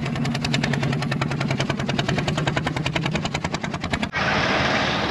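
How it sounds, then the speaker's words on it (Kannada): Motor boat engine passing on the water at a floating village in Cambodia, a loud, steady rhythmic chugging close by that cuts off abruptly near the end, leaving a broad wash of water and wind noise. "ಇದು ಇನ್ನೊಂದು ಬೋಟ್ ಹೋಗ್ತಾ ಇದೆ ನೋಡಿ."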